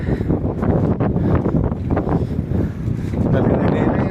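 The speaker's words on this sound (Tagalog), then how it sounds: "ang lakas ng hangin guys" Strong wind roars and buffets the microphone continuously while cycling in the Netherlands, a loud, steady rushing with gusty swells throughout.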